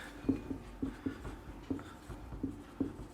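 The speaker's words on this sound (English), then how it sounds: "let me just write it down for you" Marker or pen strokes on a board, a series of short scratchy taps and squeaks in an uneven rhythm, fairly quiet and close, with no talking.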